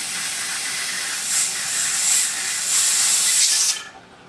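Steam hisses hard from the vent of a pressure canner used for canning chicken, a loud steady rushing close by that swells slightly, then cuts off abruptly near the end.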